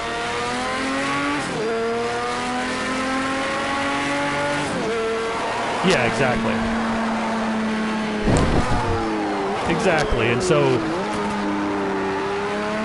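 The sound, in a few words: Can-Am race car engine and tires in video game Project Cars 2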